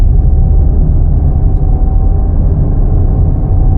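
A Maruti Swift ZXI+ automatic car accelerating in third gear, heard as a loud, steady engine and road rumble from inside the cabin, with no talking.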